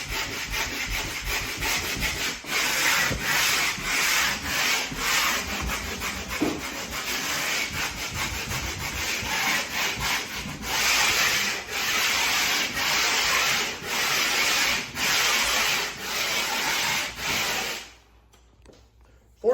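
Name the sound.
hand sanding around an electrical box on a wall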